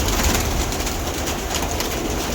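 Pigeons in a loft coo softly amid a steady low rumble and broad background hiss, the calls blending into continuous noise rather than standing out clearly.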